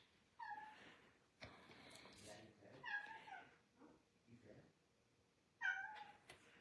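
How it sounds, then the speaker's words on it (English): A cat cries and meows for attention in a few sharp, high calls spaced across the stretch, with people talking between and around them indoors. "Sorry, cat. I don't know why he's crying. I think he wants attention and nobody's giving him any"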